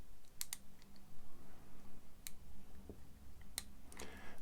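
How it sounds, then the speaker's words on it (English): Lock pins give small, sharp clicks as a lock is picked with a pocket pick, a few isolated quiet ticks spaced irregularly over faint background hiss. "Nice little click out of 2, 3's binding."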